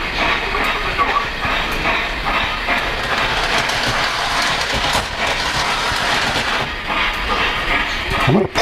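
A model freight train on a Polar Express-themed layout runs backward down a grade, giving a continuous close rolling rumble with a faint clickety-clack of wheels on track and a light hiss, steady throughout.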